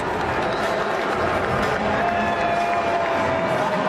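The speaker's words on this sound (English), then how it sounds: "I think I hear jeering and I think I hear some clapping and I heard a couple boos." A large stadium crowd at a Phillies baseball game roars continuously at a distance, with scattered clapping and a few jeers and boos mixed into the dense din.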